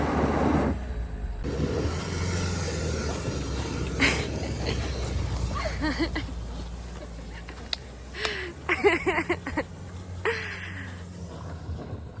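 A stuck car's engine revs and strains on a picnic outing in the countryside, a steady mid-pitched hum rising and falling with louder surges, under talk and laughter.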